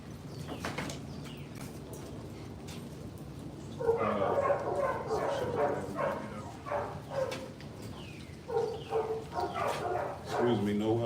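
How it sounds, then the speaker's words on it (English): Several kennel dogs bark and yip in bursts as they are let out onto a concrete run, with someone talking nearby and quieter stretches between the barking. "So we got a couple of more dogs we're gonna let out."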